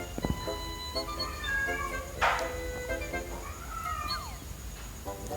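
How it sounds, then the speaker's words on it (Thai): A cat meows faintly in the background, its drawn-out cries sitting under steady electronic game music and effects. "ได้ยินเสียงแมวไหม"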